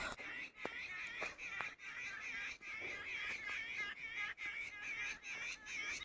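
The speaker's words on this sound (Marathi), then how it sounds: "आत्ताच तुम्ही ऐकलं पक्ष्यांची किती जोरात किलकिलट सुरू आहे" Many birds chirp and twitter loudly in a busy, continuous morning chorus during a walk, with sharp calls overlapping throughout.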